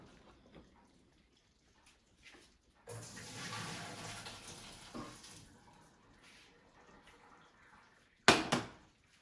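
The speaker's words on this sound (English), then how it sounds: "So I'm just gonna bring it and drain it in a colander." Cooked vermicelli noodles are tipped into a colander to drain, a burst of pouring, splashing water lasting a few seconds, followed by quieter dripping and a sharp clatter near the end.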